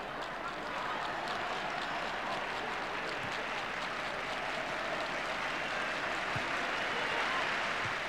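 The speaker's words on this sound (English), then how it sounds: "Crowd very appreciative." Football crowd at an England versus Turkey match applauding, a steady, dense wash of clapping and cheering that fills the stadium evenly from start to finish.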